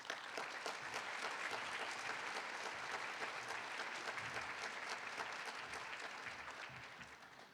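Sustained applause from a luncheon audience welcoming a university president to the podium, steady and dense throughout before tapering off near the end.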